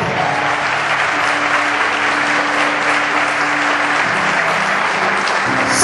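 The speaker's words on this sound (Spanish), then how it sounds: "Si le dan un aplauso al Señor, déselo del corazón" Congregation in church applauding for the Lord during a sermon, a sustained, loud, even roar of clapping from a large crowd, with a faint tonal hum running beneath it.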